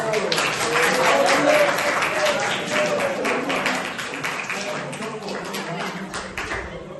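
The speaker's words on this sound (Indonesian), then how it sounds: "tepuk tangan untuk kelompok 1" Classroom applause for a student group during a peer teaching session, dense clapping that starts loud and gradually thins out, with some voices in the room.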